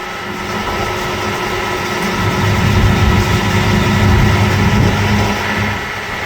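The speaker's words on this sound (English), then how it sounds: "we can watch the auger fold in" A combine's corn head auger folds in with a steady, loud mechanical rumble and drone, engine running throughout and swelling slightly midway, with no talk.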